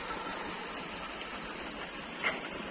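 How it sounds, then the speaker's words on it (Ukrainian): Steady broadband rush of water pumped down a drill bore and flowing back out through a trench while a water well is drilled, continuous and fairly close with no talk. "Насос подає воду в бур і траншеєю витікає вода назад"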